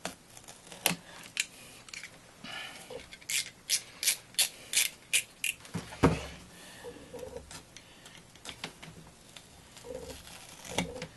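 A blade cutting through a foam sword tip in repeated short passes, producing a quick series of crisp, close ratchet-like clicks and scraping strokes, with no talk.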